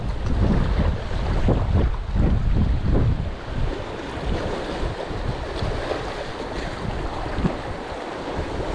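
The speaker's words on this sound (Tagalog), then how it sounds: "napakalakas ng hangin" Strong wind roars and buffets a microphone at a remote outdoor spot during an attempt at fishing, a dense low rumble that surges loudly through the first few seconds and then settles into a steady, slightly softer gusting.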